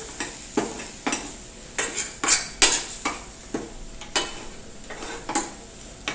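Repeated sharp scraping clatters of a spoon or spatula against a pan as mutton pieces in kharda mixture are tossed, roughly one every half second, close and fairly loud over a faint background sizzle.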